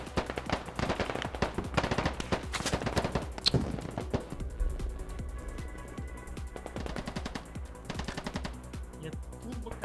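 Automatic rifle fire in the military shooter Squad rattles in rapid bursts, dense at first and then thinning to scattered shots and quieter distant pops, with voices talking underneath.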